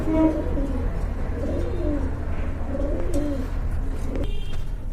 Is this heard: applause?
no